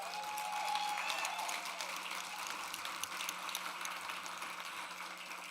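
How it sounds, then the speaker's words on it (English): An awards-night audience at the 2023 International Folk Music Awards claps for nominees and winners, a moderately faint, steady patter of applause that lasts throughout and slowly eases off near the end. "Please give them one more round of applause."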